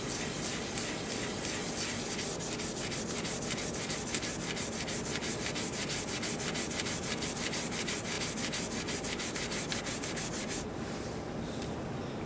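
Sandpaper rubs continuously over a cocobolo wood finish being wet-sanded toward a glassy surface, a steady dense scratching with quick back-and-forth strokes, close and even throughout, stopping just before the end.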